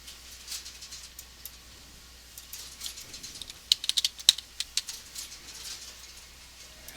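Typing on a computer keyboard while entering a new username, with quiet scattered key taps that build into a quicker burst of sharp clicks midway, then thin out again, close and fairly soft.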